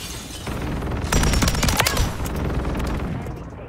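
Pulemyot 762 light machine gun fire in Modern Warfare 3, with sustained automatic bursts that swell loudest midway and then continue as steady rapid shots.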